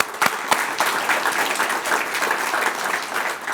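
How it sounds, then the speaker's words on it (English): Luncheon audience applauding board members at a Chamber of Commerce lunch, a steady, dense patter of many hands clapping fairly close, with a few sharper claps early on. "So let's give them a round of applause"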